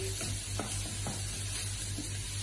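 Onions and garlic fry in a pan for a sauce, a soft continuous sizzle with a few brief stirring clicks, heard up close and with no speech.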